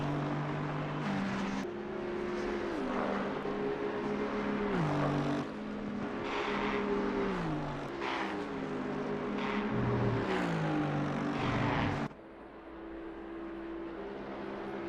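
Aston Martin GT3 race car at Spa in a racing game, engine droning steadily with repeated gear shifts and rising revs, loud and continuous, then cutting to a quieter, more distant engine note near the end.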